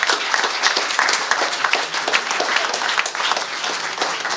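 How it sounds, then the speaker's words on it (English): A crowd at a community baseball awards event breaks into loud, sustained applause, with many hands clapping densely and evenly throughout. "Round of applause for Kevin, please."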